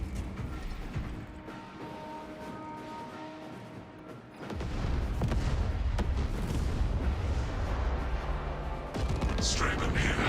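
Explosions detonate in the video game Space Marine 2 as a sustained, heavy rumble of blasts and roaring low-end debris that swells midway and stays loud and dense until the end.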